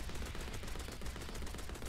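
Rapid, continuous gunfire from the zombie shooter video game KeepUp Hunter, loud and dense with closely spaced shots running throughout without a break.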